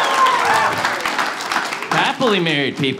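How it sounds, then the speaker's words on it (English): Stand-up comedy audience applause and cheering fill the first two seconds, loud and broad, then someone talks over the fading clapping. "Round of applause."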